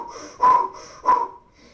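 Two loud, airy breaths with quieter pauses between them, close and isolated, an audible inhale and exhale through an open mouth.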